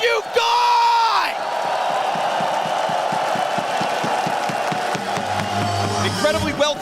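An arena crowd at a Counter-Strike semifinal roars and cheers continuously, with a loud shout rising at the start and clapping and whoops running underneath.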